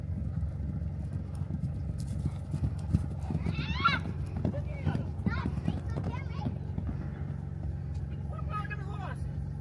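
A horse on a farm clip-clops at a walk with steady hoof beats and gives a couple of whinnies, close by, while people talk over it.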